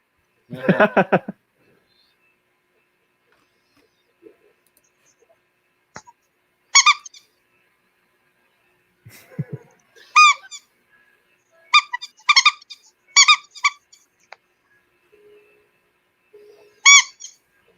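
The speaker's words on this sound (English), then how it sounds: "the Squeaky Dracula would like to say something to you, Dave." A squeaky Dracula toy gives short bursts of high, bright squeaks, some single and some in quick clusters, separated by long stretches of near silence.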